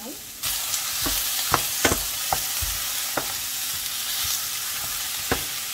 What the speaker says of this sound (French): je fais revenir le steak avec des oignons